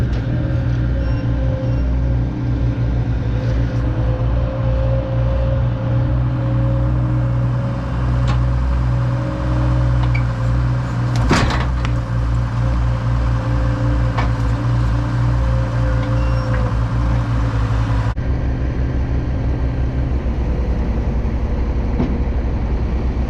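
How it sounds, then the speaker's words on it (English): A skid steer's engine drives up near a 660 Case combine, a loud, steady diesel drone with a constant low rumble that holds throughout and shifts slightly in tone toward the end. "So I'll come back with the skid steer."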